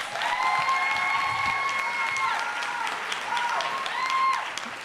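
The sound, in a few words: audience applause at graduation ceremony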